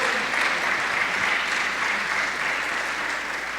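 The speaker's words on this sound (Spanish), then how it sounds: "Denle un aplauso al Señor" A church congregation claps together at a Spanish-language sermon, dense continuous applause filling the room at steady loudness from start to finish, no voices above it.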